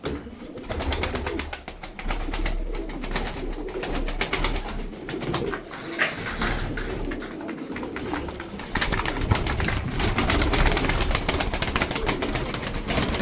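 Tumbler pigeons coo in a loft, a dense, continuous mass of close bird sound mixed with fluttering and scattered clicks, with no clear pause.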